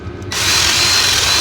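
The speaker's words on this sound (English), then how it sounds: "We're going to bore that out a little bit because she was a little sticky" A power drill bores out a hole in a race throttle linkage part, starting abruptly after a quiet moment and then running steadily and loudly close by, a continuous whirring grind with no talk.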